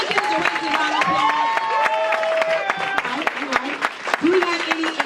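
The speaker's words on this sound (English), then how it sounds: "Let's give the directors a round of applause." Scattered clapping and cheering rise from a crowd at a business training event for directors, mixed under overlapping voices and shouts in a lively room.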